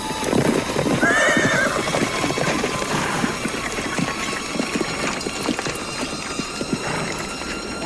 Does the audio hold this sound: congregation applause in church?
no